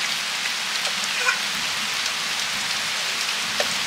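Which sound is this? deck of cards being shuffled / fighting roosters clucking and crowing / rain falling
rain falling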